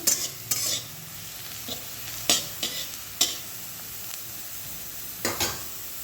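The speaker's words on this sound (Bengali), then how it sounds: "উচ্ছেগুলো ভালো করে ভেজে নেব এই যে উচ্ছেগুলো একদম ভাজা ভাজা হয়ে গেছে" Bitter gourd fries in a pan with a soft, steady sizzle, broken by sharp scraping and tapping knocks as a utensil stirs the pieces at irregular intervals, close and fairly quiet.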